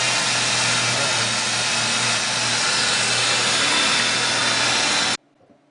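A loud car engine runs close by at a fairly steady pitch for several seconds, then cuts off abruptly.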